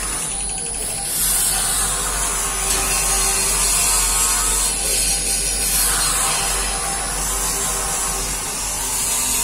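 The stirrer of a KPE-1500 cheese-making vat runs on an auto-reverse cycle, giving a steady, hissing mechanical drone that stays loud and continuous throughout, with no speech.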